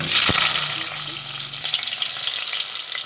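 Whole spices (cloves, cinnamon and cardamom) frying in about three spoons of oil in a kadai, a loud, steady close-up sizzle with a sharp crackle near the start and no talking.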